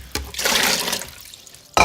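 Cold tap water gushes into a vessel for over a second, a broad splashing rush that fades, followed by a sharp new burst of flow at the end.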